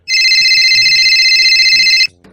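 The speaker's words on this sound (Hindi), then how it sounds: "अरे ये किसका फोन आ रहा है इस लोग का फोन पे?" A mobile phone rings loudly and close by, a steady electronic ringtone lasting about two seconds before cutting off, with faint voices talking underneath.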